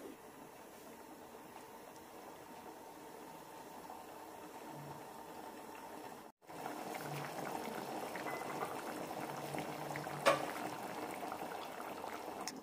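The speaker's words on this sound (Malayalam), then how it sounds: "കറി നന്നായി തിളച്ചിട്ടുണ്ട്." Ivy gourd curry simmering in a pot gives a soft, continuous bubbling that turns louder and busier partway through, with one brief sharp clink near the end.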